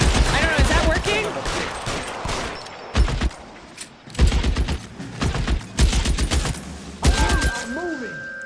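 Gunfire from shooting in a video game: repeated bursts of loud, close shots with sharp thuds in between, and brief tonal game sounds near the end.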